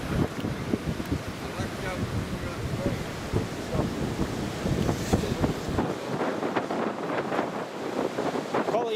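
Strong Storm Otto wind buffets a microphone at Newcastle Airport, a loud rumbling roar that gusts without letup, with faint voices blending into the noise.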